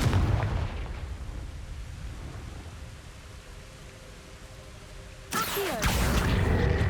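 Confringo fire-spell blasts in Hogwarts Legacy: a broad roaring burst at the start that fades into a low rumbling wash, then a second sudden loud blast near the end, with no voice.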